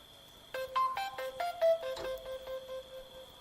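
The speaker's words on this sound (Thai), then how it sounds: "มันเป็นเสียงโทรศัพท์" A phone ringtone plays alone, a bright electronic melody of short stepped tones followed by a few sustained notes, moderately quiet against a faint background.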